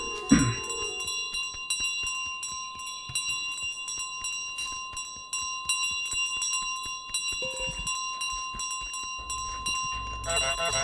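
A bell is dropped in Untitled Goose Game and keeps ringing with a sustained metallic tone. Rapid clicking and small game sounds run under it, and a faint voice is heard now and then.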